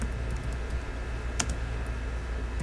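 Keys on a computer keyboard are tapped in quick, light clicks, with one sharper press near the middle, close and clear over a low steady hum, with no talk.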